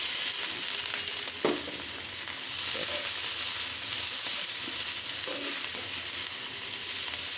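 Fresh garden greens go into a pan of frying shrimp, giving a steady close sizzle with a few clunks and scrapes of stirring over the constant hiss, no voices.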